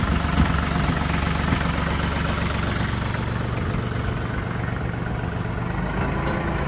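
A Branson TYM 2515H compact tractor with backhoe moves slowly forward in low range, its diesel engine a loud, steady, close rumbling drone with a knocking undertone throughout, no talk.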